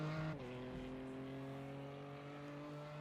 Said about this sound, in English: The BMW M4 GT3, the newest GT3 machine out there on the iRacing service